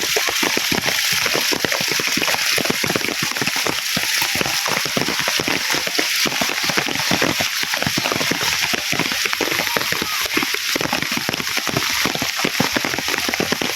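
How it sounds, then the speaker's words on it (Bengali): Heavy rain pours down in a village, a loud, dense, unbroken roar of drops hammering surfaces nearby that lasts the whole stretch, with a voice faintly audible beneath it. "দুমছে বৃষ্টি নামছে।"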